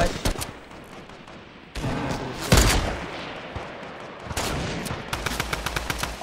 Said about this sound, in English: I'm getting double sniped at